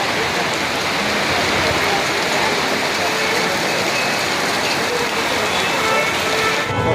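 Steady rain pouring down during a Durga Puja festival outing, a dense continuous hiss that holds evenly throughout, with voices talking underneath.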